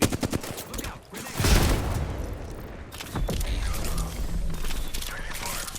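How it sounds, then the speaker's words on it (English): Enemy gunfire rattles in a video game shootout: bursts of rapid shots and mechanical clatter crackle at close range, with a player's voice talking over parts of the action. "The enemies are shooting at me."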